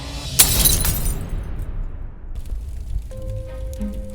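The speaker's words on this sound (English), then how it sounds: "Jade had put fire to his car and smashed his windows" A car window shatters under a baseball bat with a sharp crash, and glass fragments rain down and tinkle away over several seconds. Faint tonal noise comes in near the end.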